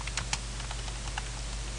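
Rapid keystrokes on a computer keyboard while entering a search for a cosmetic dentist, a steady run of light clicks over a low electrical hum, no talking.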